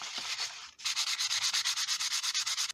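400 grit sandpaper rubs a Bondo crow in a steady back-and-forth rhythm, with a short scrub first and then about a dozen even strokes, close and loud with no voices.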